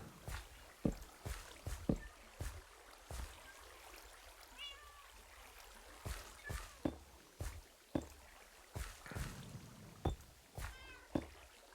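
Cats in the Minecraft video game meow softly a few times among steady sharp clicks and taps, the meows faint and spread out over the quiet background.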